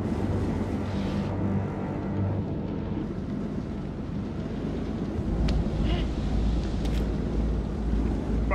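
Boat rocking on a stormy ocean in the game Man of Medan: steady rushing wind and water noise with a deep low rumble that swells near the end, no voices.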